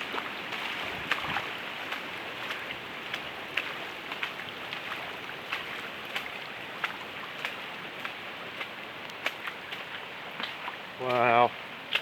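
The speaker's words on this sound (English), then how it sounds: "Got a river running around the back of the house" Floodwater runs around the back of a house in heavy rain, a steady broadband rush with patter on top, and a brief louder burst near the end.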